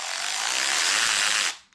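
Milwaukee M12 Fuel 3/8 inch cordless ratchet spinning freely, a steady high-pitched motor whir lasting under two seconds and stopping abruptly, close and alone.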